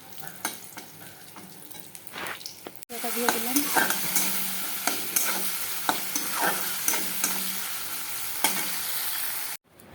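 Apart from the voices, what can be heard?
eggplant frying and being stirred in a pan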